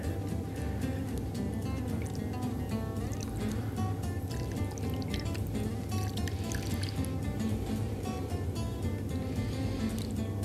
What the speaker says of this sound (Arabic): وايه ننزل بالمارينيشن